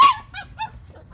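An XL American Bully puppy barks outside, giving a few short, high yips in quick succession, close and fairly loud against a quiet low background.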